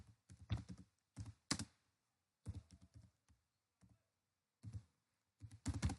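A search query is typed on a computer keyboard, soft close keystrokes arriving in short uneven clusters with brief pauses between them, quiet and without speech.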